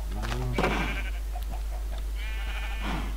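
Sheep in Minecraft bleat over a steady low hum, with one quick bleat, a longer wavering one, and a further bleat near the end, moderately close and loud.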